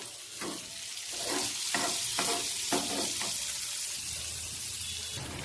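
Chicken sizzles in butter in a covered pan, a steady broadband frying hiss with several bursts of louder crackle, no voices.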